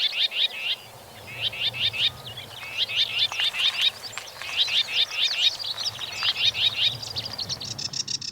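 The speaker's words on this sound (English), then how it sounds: "it was a chance for me to see the common whitethroat" A common whitethroat delivers a series of short, scratchy warbling phrases in quick succession, fairly close, over a low background hum.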